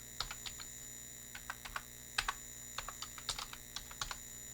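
Keys on a computer keyboard click in short bursts while chart figures are typed in, with close, crisp taps and brief pauses between groups over a faint steady hum.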